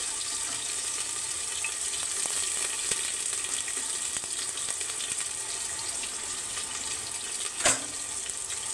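Rice with onion and potato frying in a pan gives a steady close hiss and sizzle that holds even throughout, with one brief louder clatter near the end.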